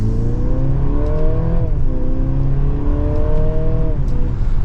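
A 2024 Mercedes-Benz GLC300 Coupe accelerating in sport mode in second gear, heard from inside: a loud, steady engine drone that rises in pitch twice, dipping between the two climbs, with road noise underneath.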